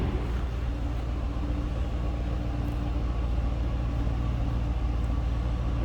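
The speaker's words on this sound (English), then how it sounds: "There's that exhaust note." Exhaust note of a 2008 Ford Mustang Bullitt, a steady low rumble from the engine idling or cruising, constant and moderately loud with no talking.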